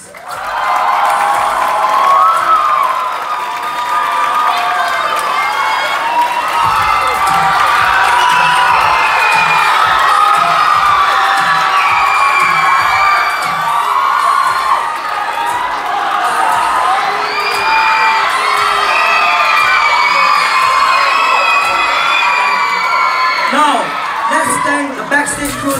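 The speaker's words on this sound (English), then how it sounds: "let's give a round of applause to all our performers and alumni for the amazing performance!" A student production audience roars with sustained applause, cheering, whoops and high-pitched shouting for performers and alumni, a loud, continuous crowd din lasting throughout.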